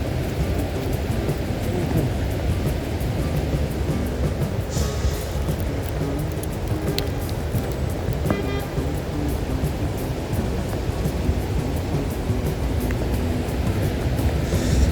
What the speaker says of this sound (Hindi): पानी बहुत आ रहा है